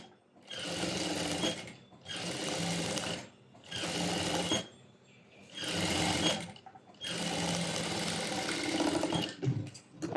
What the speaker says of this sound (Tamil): லைனிங்கை மட்டும் ஜஸ்ட் டேர்ன் பண்ணி இதுக்கு மேலே ஒரு டாப் ஸ்டிச் கொடுக்குறோம்.